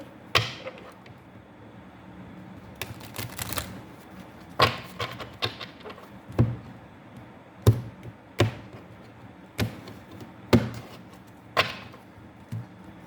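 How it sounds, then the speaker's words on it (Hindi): Tarot cards being shuffled, a series of sharp, separate taps and riffles about once a second, close and fairly loud with quiet gaps between them. "One more shuffle."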